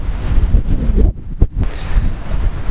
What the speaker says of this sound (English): It's windy out here, but it sure is beautiful.